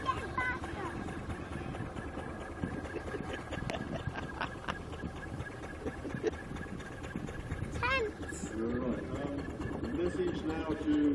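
A small-scale steam traction engine runs steadily under a rider in Tewkesbury, its low continuous chugging and mechanical rumble close by throughout, with people talking over it.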